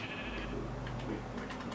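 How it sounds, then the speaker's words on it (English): A sheep bleats in Minecraft, its call repeating over a steady low game hum, with brief bright in-game effects toward the end and no speech. "There's a fucking sheep on my castle!"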